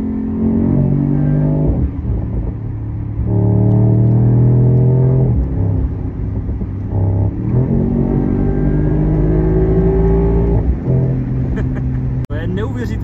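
A car engine revs hard after a downshift into third gear, its pitch climbing and falling in several loud, close sweeps with a deep rumble beneath.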